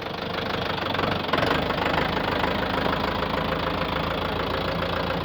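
A YTO 604 tractor engine in 4x4 runs steadily under load while climbing empty, a loud, continuous, gritty diesel clatter with a slight surge partway through and no voices.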